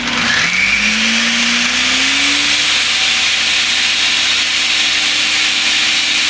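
A Ninja Detect power blender running on high, starting with a rising motor whine that settles into a loud, steady roar with grinding noise, close and continuous for several seconds.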